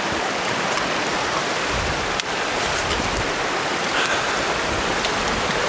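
A mountain creek in Kananaskis, Alberta, flows nearby, a steady, full rushing and splashing of water that stays fairly loud and unbroken for several seconds.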